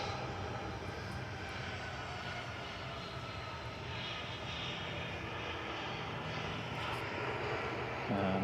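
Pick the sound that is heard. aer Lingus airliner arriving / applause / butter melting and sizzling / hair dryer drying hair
aer Lingus airliner arriving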